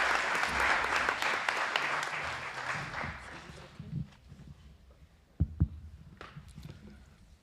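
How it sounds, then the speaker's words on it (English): An audience at a university bicentenary event applauds as a speaker takes the podium, the clapping loud at first and thinning out over about four seconds, followed by a few sharp thumps and faint room noise. "A round of applause for him as he takes the podium."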